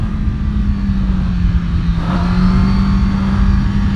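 A Kawasaki ZX-10R sportbike on an onboard lap of the Bugatti circuit, its engine a loud, steady, close drone that holds nearly constant pitch throughout, with no talking.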